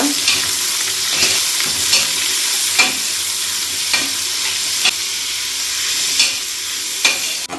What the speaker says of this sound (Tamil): பிரியாணிக்கு ஆனியன் வந்து நல்லா ஃப்ரை ஆகணும்.